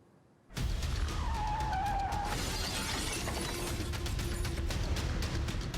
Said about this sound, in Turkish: Cam çerçeve aşağı indi.